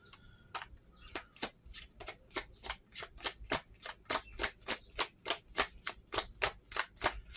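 Tarot cards being shuffled by hand, a quiet, close, regular run of crisp snapping riffles and clicks, about twenty evenly spaced strokes, with no talking.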